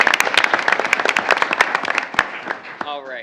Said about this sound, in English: once again, a round of applause for our student athletes this year.